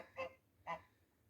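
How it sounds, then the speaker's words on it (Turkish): Two loud honks from a goose on a village farm, spaced about half a second apart, close by over a faint low hum. "Baba kaz. Ne bağırıyorsun ha?"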